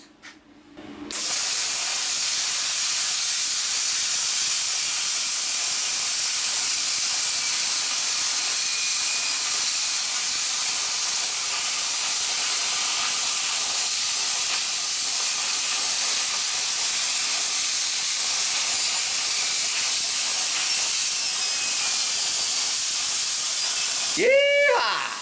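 Plasma cutting metal with a standard HF PT31 torch: a steady, loud hiss that runs almost unbroken for over twenty seconds, then cuts off sharply near the end with a brief electronic squeal.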